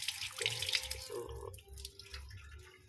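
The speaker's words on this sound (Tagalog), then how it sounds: "lalagyan po natin siya ng tubig." Tap water pours into a pot while cooking paksiw with okra and eggplant, a close splashing stream with shifting tone as the level rises, fairly quiet.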